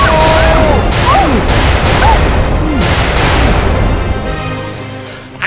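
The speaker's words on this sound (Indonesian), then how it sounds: "Ledakan bomnya sekarang." Heavy, continuous rumbling bomb blasts and booming explosions in a video game fill the clip, loud and dense, with whistling sweeps overhead before the roar tapers off at the end.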